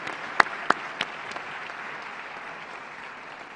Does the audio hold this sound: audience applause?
yes